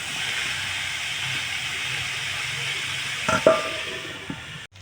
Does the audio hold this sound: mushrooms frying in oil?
yes